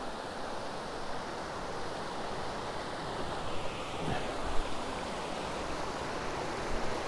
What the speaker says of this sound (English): It's just like a creek flowing out of the side of the mountain.